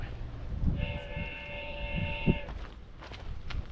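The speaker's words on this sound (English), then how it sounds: "Lots and lots of trains. That's the alert on one of the cameras." A security camera's electronic alert tone, set to a train sound, plays as a steady multi-tone whistle-like chime for about two seconds amid faint outdoor background noise, with a couple of soft thumps.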